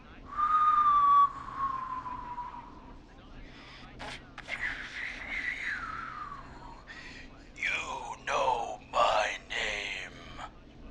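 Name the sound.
man whistling, from video game Killer Frequency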